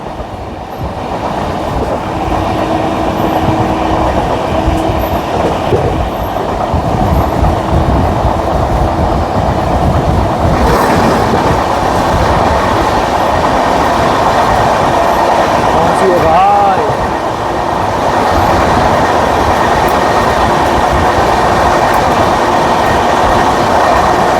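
Trains pass on an Indian railway line, heard from aboard a carriage: a loud, steady rumble of wheels and rail noise with a brief squeal midway, and faint speech now and then.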